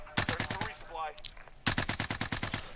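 Rapid bursts of automatic gunfire in the video game Warzone Rebirth, two clear volleys of evenly spaced shots separated by a short pause, loud and close.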